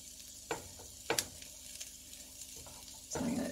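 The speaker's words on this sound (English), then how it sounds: "I'm just going to put in all the onion to begin with into the fry pan." Onion tipped into a hot cast iron fry pan, a few sharp knocks and clatters followed by a rising sizzle near the end, close, no talk.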